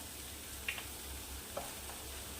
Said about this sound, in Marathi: एक ते दोन मिनिट झाले मी असे परतून घेत आहे